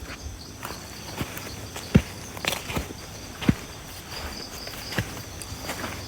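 Wet bare feet walk through a forest, making a few soft, irregular thuds and slaps against a steady hiss of insects and night ambience, with no talking.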